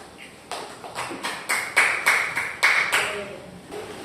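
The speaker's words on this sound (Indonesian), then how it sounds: "Terima kasih tepuk tangan untuk kelompok 3." A small classroom group gives a short, sparse round of applause for a student team, with separate claps ringing out clearly in an uneven rhythm over a few seconds.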